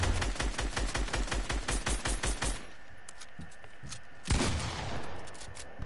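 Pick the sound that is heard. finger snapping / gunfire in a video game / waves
gunfire in a video game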